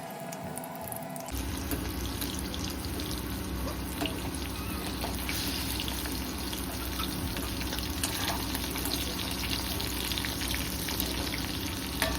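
Marinated prawns for prawns koliwada drop into hot oil and erupt into a loud, steady sizzle, with a brief quieter moment first and then continuous crackling frying throughout.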